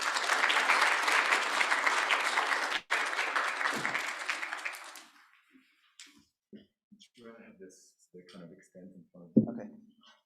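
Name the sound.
audience applause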